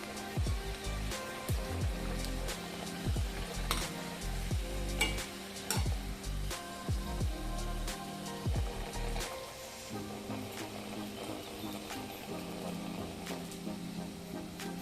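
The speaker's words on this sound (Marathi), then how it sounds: "आता एकदम मंद गॅसवर तळायचे" Wheat-flour karanji filled with fresh coconut deep-fry in oil on a low gas flame, a steady soft bubbling sizzle with occasional clinks and stirring knocks.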